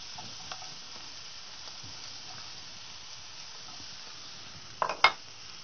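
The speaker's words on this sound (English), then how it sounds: "in this dish now, I'm going to add a few spring onions" Spring onions sizzling quietly in a pan, a soft steady frying hiss broken near the end by a couple of sharp clinks as they are stirred.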